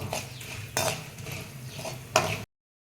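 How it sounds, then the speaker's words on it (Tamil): A spoon stirs the tempering for mango rice in a pan, with mustard seeds, urad dal and chana dal, making scraping and clinking strokes with soft sizzling between them. Three louder scrapes stand out near and close before the sound cuts off. "இப்போ நல்லா கிண்டணும்."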